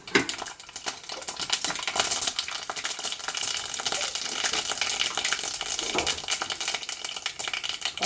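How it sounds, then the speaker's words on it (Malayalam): Mustard seeds and a little fenugreek crackle and sizzle in hot oil in a preheated pan, a dense, continuous spattering hiss with fine popping, steady and close for several seconds. "അപ്പോൾ വേഗം കടുക് പൊട്ടി വരും"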